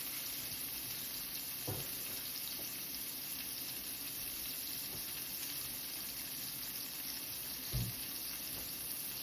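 Shrimp sauteing in a pan for a lemon linguine, a soft continuous sizzle held quietly in the background with a couple of faint clinks.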